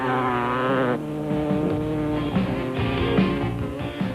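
A Kawasaki racing motorcycle in the 1992 Mmabatho Sun 500 race: the engine screams loudly at high revs, drops sharply in pitch, then climbs and falls again through gear changes.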